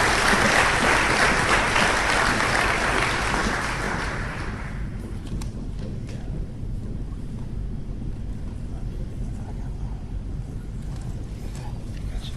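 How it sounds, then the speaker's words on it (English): An audience at a high school top-ten student awards banquet applauds with loud, dense clapping that fades after about four seconds into a low room rumble and faint crowd murmur. "Let's give these top 10 freshmen another round of applause."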